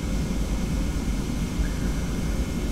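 Boeing 717-200 airliner engines in a flight simulator game, a steady broad roaring drone with a low rumble, constant and unbroken, with no voices.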